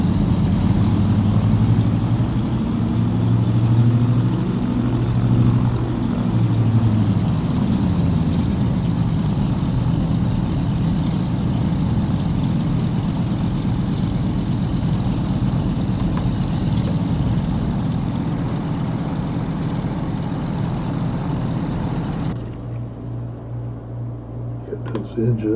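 Piper PA-28 propeller aircraft in a flight simulator game gives a steady, loud engine drone with a low rumble that holds for most of the stretch, then drops away sharply near the end. A voice may be faintly present beneath it.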